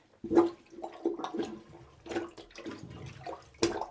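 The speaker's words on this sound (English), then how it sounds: "what I'm going to do now is take a plunger and see how much I can plunge out" Water sloshes and gurgles in a household toilet bowl as a plunger is pumped in several uneven strokes, close and fairly quiet, with no talking.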